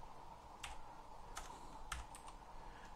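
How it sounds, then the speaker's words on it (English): Quiet typing on a computer keyboard, a few sparse keystrokes and clicks spaced irregularly over a soft background hiss. "let's just start typing new word"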